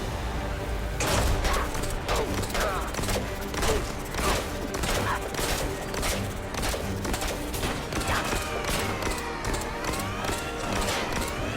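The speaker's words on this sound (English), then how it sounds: "I'll avoid that UFO while shooting at the floating henchman." Repeated shots fire at a floating henchman in the LEGO DC Super-Villains video game, a steady run of sharp cracks over game music and effects, with a voice occasionally talking.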